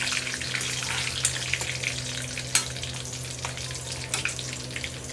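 Spices including bay leaf, cumin and black pepper fry in a pan while being stirred, a continuous close sizzle broken by a few sharp clinks and pops, with no talking.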